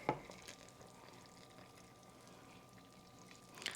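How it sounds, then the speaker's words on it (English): A hot mixture of oil and water is poured over cocoa, flour and sugar in a pan for a dark chocolate cake, a soft, faint liquid pour that runs for a few seconds. "So I'm just going to pour that over that and then stir it in."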